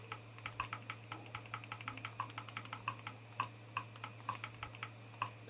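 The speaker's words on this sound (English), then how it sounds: "I'm just going to type one more time." Someone types on a computer keyboard, a quiet, steady run of light clicks and taps at close range over a low hum, with no speech.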